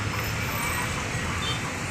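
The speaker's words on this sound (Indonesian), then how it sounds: "Ini juga ada bus Sempati Star." Roadside bus terminal with a Sempati Star intercity coach running Jakarta to Medan, steady broadband traffic and engine rumble filling the whole stretch at moderate level, with no clear speech.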